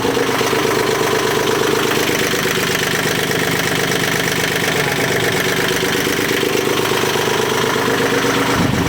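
A rebuilt Yanmar diesel engine runs hard at high revs, a dense steady clatter and knock that fills the whole stretch without letting up.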